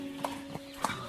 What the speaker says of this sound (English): please, take my finest horse with you